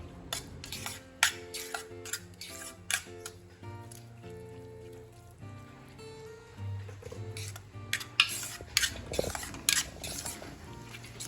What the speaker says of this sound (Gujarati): અને આ બધી વસ્તુને આપણે એકદમ સરસ રીતે મિક્સ કરી લઈશું.